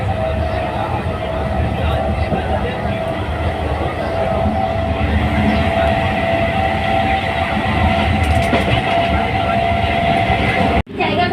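Inside a passenger train starting to move, a steady loud rumble of wheels and carriage noise runs throughout, with a sustained tone and a brief drop near the end.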